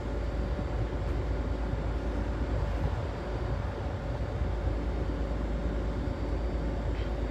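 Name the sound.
Azuma train arriving into platform 3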